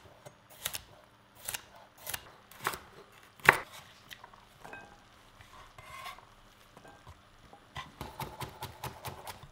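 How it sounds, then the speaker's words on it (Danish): Knife chopping spring onion and root vegetables on a cutting board, with repeated sharp, close chops in uneven bursts and a louder cluster of quick cuts near the end, without any talking. "Det skal altså bare snittes i nogle små stykker"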